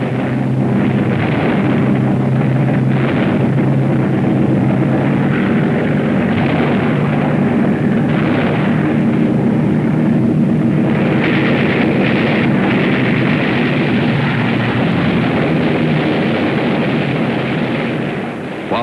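A World War II air battle between American bombers and German fighters, heard as a loud, dense, continuous roar of aircraft engines broken by bursts of gunfire and explosions, sustained throughout without letup.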